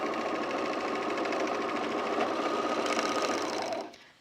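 A sewing machine stitches overalls fabric over serged edges in one steady, close, continuous whirring run that winds down abruptly near the end.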